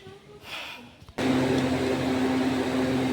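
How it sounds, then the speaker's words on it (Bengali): Dal with tempering boiling in a pot on a home stove, a steady loud hissing bubble and sizzle that starts abruptly and continues evenly, close by. "এই যে ফুটছে ডাল"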